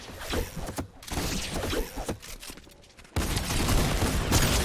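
Tactical shotgun blasts and other gunfire erupt in an online shooter game, several heavy booms in irregular bursts with continuous loud battle noise and no talk.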